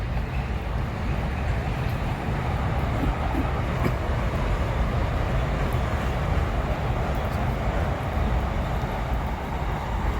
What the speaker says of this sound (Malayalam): ബാക്കിൽ കൂടെ ട്രെയിൻ പോണത്.